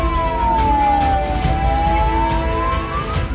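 An ambulance siren wails in a slow rising and falling sweep while the vehicle sits stuck in a traffic jam in Dumduma, Tinsukia, with road noise steady underneath.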